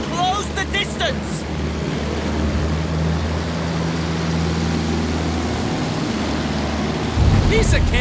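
Propeller aircraft engine in Battlefield 1 drones steadily, its tone holding near and loud, then surges louder as the throttle opens near the end, with faint voices at the edges.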